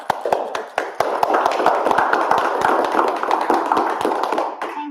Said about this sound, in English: a round of applause for all of the aldermen present